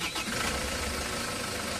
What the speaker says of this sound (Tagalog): Pagka switch off ko nyan, i-start ko ulit itong makina.